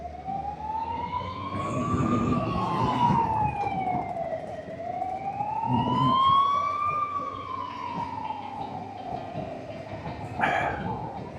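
An ambulance siren wails in slow rising and falling sweeps, loud and sustained, while the vehicle sits stuck in congested traffic on a Budapest road, with low traffic rumble beneath.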